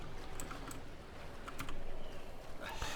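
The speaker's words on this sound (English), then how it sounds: "I also apologize if you hear my click-clacking of my keyboard a lot." Steady clicking and clacking of typing on a Razer computer keyboard runs throughout, soft and fairly close, with scattered sharper key strikes over a low background hiss and no talking.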